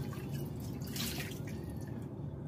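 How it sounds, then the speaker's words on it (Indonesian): Water is poured over peeled ingredients to rinse them, giving a close, continuous splashing and trickling with small drips, quiet and without talk. "Siram pakai air seperti ini."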